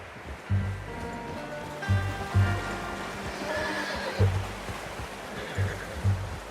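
Horse neighing in Red Dead Redemption 2 on a hunting trip, several loud whinnies and snorts close by, repeated at irregular intervals over a soft running-water ambience.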